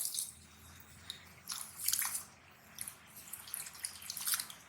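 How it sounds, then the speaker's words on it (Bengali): Drumstick (sajna) leaves are swished and rubbed by hand in a bowl of water, giving soft splashes, drips and wet squishing in irregular bursts, close and fairly quiet. "সাজনা পাতাগুলো ভালো করে ধুতে হবে"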